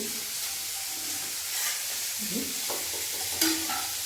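Boiled corn kernels sizzle in a little hot oil while being stirred, a steady hiss with scraping and clinking of the spoon and a sharper clatter near the end, close and without talk.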